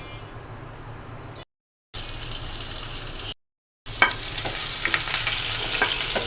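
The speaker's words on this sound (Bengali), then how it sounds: "পেঁয়াজটা একটু ভেজে নিচ্ছি।" Onion frying in oil for a vegetable curry in a home kitchen, a steady close sizzle with stirring scrapes, cut by two brief silent gaps and growing louder and busier toward the end.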